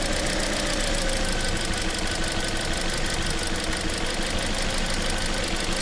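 A 2013 Toyota Corolla engine idles with a misfire, a loud close-up mechanical rumble and ticking that holds steady for the whole stretch, with no talking.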